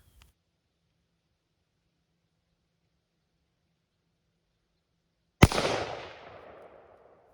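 An AR-15 rifle fitted with a binary trigger fires a single loud, sharp shot outdoors after a long stretch of near silence, its report trailing off in a rolling echo over a couple of seconds.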